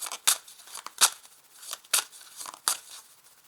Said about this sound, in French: je vais vous sortir ici une carte conseil pour vous